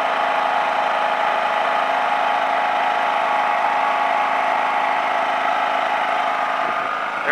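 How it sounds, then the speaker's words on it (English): A portable generator converted to run on propane drones steadily at a constant, close, loud pitch for the whole stretch, with a brief rattle near the end. "That generator right there is running off that propane tank"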